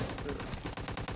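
A burst of rapid, sharp bangs rings out in quick succession, like gunfire, loud and close for about a second.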